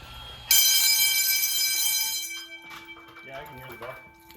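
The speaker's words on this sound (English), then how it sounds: "Yeah, I can hear the bell." Fire alarm bell on an Edwards system rings loud and steady during a school alarm test, starting abruptly then cutting off after about two seconds, with people talking nearby afterward.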